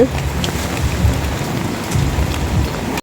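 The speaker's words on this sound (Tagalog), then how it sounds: "Ah, maulan. Maulan din." Steady rain falls, a loud, dense, continuous hiss of drops hitting surfaces close by, with no voices, before it cuts off abruptly.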